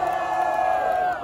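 Live crowd at a Brazilian street rap battle final cheering and whooping for a competitor, a short burst of massed voices at moderate distance.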